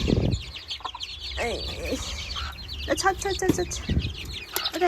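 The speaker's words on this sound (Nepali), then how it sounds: "मेरो चाहिँ कुखुरा एकदम खानालाई आतुर परिसकेको छ यिनीहरूलाई" Hens cluck and squawk eagerly near a person about to scatter feed on a sunny day, with quick clucks, a little wing flapping and someone calling to them.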